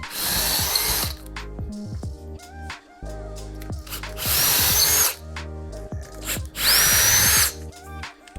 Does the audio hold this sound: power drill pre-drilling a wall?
yes